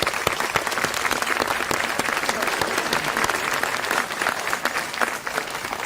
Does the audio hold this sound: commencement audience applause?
yes